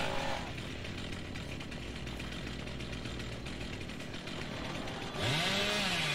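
The Hillbilly's chainsaw in the Dead by Daylight video game drones steadily and loudly under game ambience, then revs up into a rising whine near the end.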